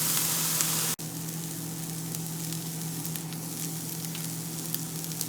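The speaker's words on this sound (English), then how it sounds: "These are our vegetables that are sauteing." Vegetables sautéing in a hot pan, a steady dense sizzle that carries on evenly after a brief click near the start, close up with no talking.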